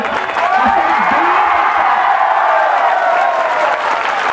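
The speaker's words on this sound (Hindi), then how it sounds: "मैं चाहता हूं कि एक बार ऐसी ताली बजाइए" Loud, dense applause from a large crowd at a political rally and road show in Chhaygaon, Assam, with cheers and whoops rising in the mix, steady and sustained throughout.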